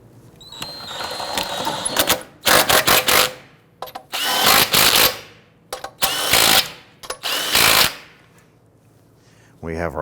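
Power tool snugging down lug nuts on an Infiniti G37 wheel, heard as several loud, short whirring bursts separated by pauses, with clicks and handling noise in between.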